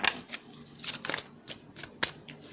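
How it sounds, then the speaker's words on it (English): Tarot cards being shuffled by hand at close range, a series of quick riffling and sliding bursts with short pauses between them. "Now hold your ponies while I shuffle."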